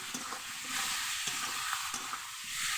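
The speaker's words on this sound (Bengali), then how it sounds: "পাকা লঙ্কা আর হলুদ আর নুন একসঙ্গে আমি দিয়ে দিলাম দিয়ে আমি ভালো করে কষিয়ে নেব" Red chili, turmeric and salt fried and stirred together with ginger in a pan, giving a steady soft sizzle with faint scraping stirs, close and fairly quiet, with no voices.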